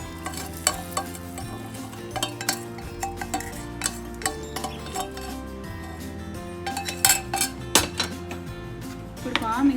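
Spoon stirring sheer khurma with vermicelli, ghee and dry fruits in a metal pot, a close run of irregular scrapes, clinks and knocks against the pot over soft sizzling.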